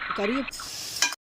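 Chicken meat hits hot oil with popped mustard seeds in a brief crackling sizzle and a clink of stirring, after a short bit of voice at the start.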